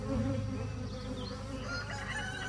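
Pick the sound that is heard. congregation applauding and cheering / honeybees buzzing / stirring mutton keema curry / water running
honeybees buzzing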